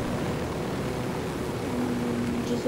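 Helicopter in the Ghost Recon video game, a steady droning engine and rotor hum held at an even level throughout, with a faint tonal whine rising near the end and no talking.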